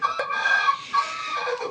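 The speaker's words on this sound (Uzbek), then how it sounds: "bular gallant deydi nomini. Bular ham yaxshi ser tuxum, ham yuvosh tovuq" Gallant breed chicken clucking and crowing close by, a short throaty call with a sharp note at the start, a brief pause, then a second drawn-out cluck, with no talking.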